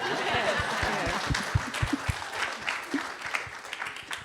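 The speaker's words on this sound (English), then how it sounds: "I was waiting for everybody to clap" Audience at a San Francisco human rights commission event claps in scattered, uneven hand claps, a few sharp and close, over a murmur of room noise and some chatter.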